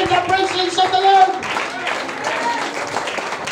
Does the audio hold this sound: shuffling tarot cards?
no